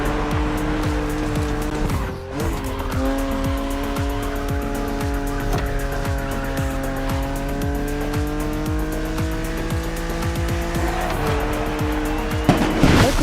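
A BMW in the racing game The Crew Motorfest drives hard with a sustained engine drone and shifting pitch, tires squealing through corners, close and continuous.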